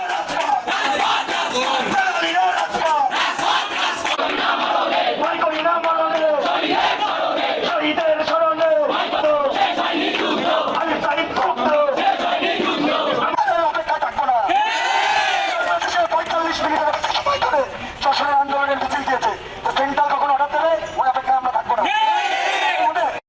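Crowd of student protesters and lawyers chanting and shouting slogans at a chief judicial magistrate court premises, a loud, continuous roar of many voices throughout.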